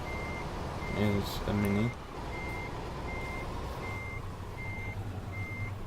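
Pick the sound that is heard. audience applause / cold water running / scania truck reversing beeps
scania truck reversing beeps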